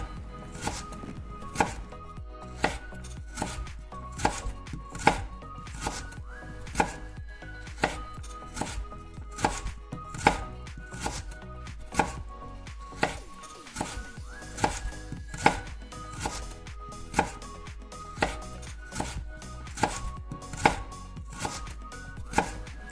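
A knife chops onions and green chillies into small pieces on a board, a fast, steady run of sharp close taps lasting the whole stretch with no talking.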